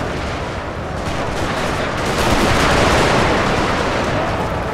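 Massed musket volleys crackle in a Total War battle of the American Civil War, a dense continuous wall of overlapping shots swelling louder midway, with no talking over it.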